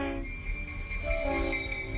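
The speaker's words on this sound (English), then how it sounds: "A 3-hour round-trip train excursion" A tourist excursion train on a round trip through mountain and canyon country rumbles steadily at moderate distance, with a sustained horn-like tone rising over the rolling rail noise.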